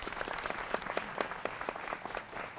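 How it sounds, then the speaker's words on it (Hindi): A television debate studio audience gives a brief round of hearty applause, steady clapping with distinct individual claps audible throughout. "इनके लिए भी जोरदार तालियां"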